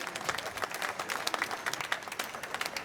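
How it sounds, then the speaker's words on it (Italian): An outdoor crowd in a town square applauds mayors on stage, producing a steady patter of clapping at moderate distance without clear speech. "Vogliamo sentire l'applauso più caloroso e forte,"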